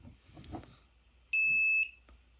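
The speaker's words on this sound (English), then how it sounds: "It'll go through its bootloading cycle. So it'll flash the green light and beep." A model rocket's flight computer beeps during its boot cycle: a single loud, steady, high-pitched electronic beep sustained for about half a second, after some faint handling clicks.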